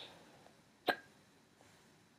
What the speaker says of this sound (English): Hiccups, crap.